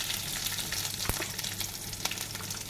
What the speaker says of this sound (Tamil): அதில் வந்து சோம்பு, கருவேப்பிலை, ஒரு 2-3 பல்லு பூண்டை வந்து அப்படியே தோலோடு தட்டி போடணும்.